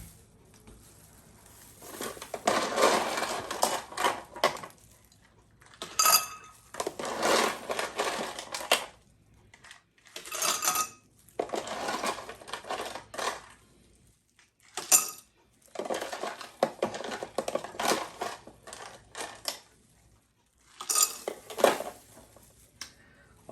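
Ice cubes tumble into a glass for a Blue Lagoon mocktail in repeated clattering bursts, each a rattle of hard clinks separated by short quiet gaps.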